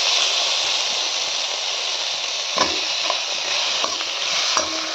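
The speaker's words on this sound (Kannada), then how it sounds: "ಇವಾಗ ಇದನ್ನು ಫ್ರೈ ಮಾಡ್ಕೋತಾ ಇದ್ದೇನೆ, ಚೆನ್ನಾಗಿ ಎಣ್ಣೆಯಲ್ಲಿ ಫ್ರೈ ಮಾಡ್ಕೋತಾ ಇರಬೇಕು" Two tomatoes fry in oil on low heat, giving a steady close sizzle with a few soft clinks of stirring mixed in.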